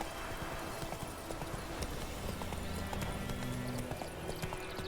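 Hooves clip-clop steadily as a horse gallops along in The Witcher 3, a continuous rhythmic pounding over ambient game sound, with a faint whinny and low game music mixed in.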